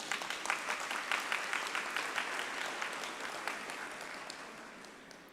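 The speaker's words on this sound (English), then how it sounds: "Let's give a big round of applause for our Dean." An audience applauds at a university ceremony as the dean is welcomed to the stage, a dense, even clatter of many hands that fades gradually toward the end.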